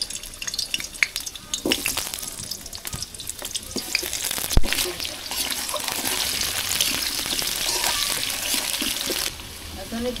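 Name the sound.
washing cut chicken under running tap water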